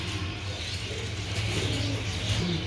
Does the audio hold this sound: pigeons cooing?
yes